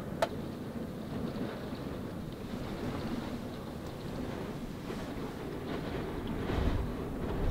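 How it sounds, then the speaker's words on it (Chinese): A strong wind and rainstorm buffets a motorhome parked below Jade Dragon Snow Mountain, heard from inside as a continuous low roar with gusty surges and no speech. "外边狂风暴雨，这样可能看不出来这个车到底晃得有多厉害"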